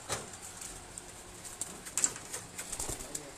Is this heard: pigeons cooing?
yes